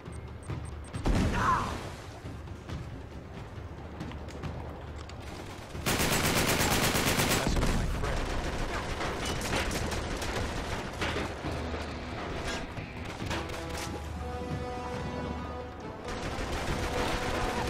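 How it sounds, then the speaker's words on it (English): Machine gun fire rattles in the video game Uncharted 3: Drake's Deception, with sustained bursts of rapid shots and a very loud, dense volley in the middle, then further gunfire and impacts among other game sounds. "It's that machine gun, how am I to fucking get around that?"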